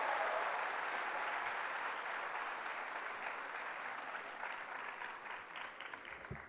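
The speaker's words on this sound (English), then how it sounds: "A big round of applause as we welcome him to speak a few words here." Steady applause from a large audience at a literary festival welcomes a speaker to the stage, a dense, even patter that gradually thins toward the end.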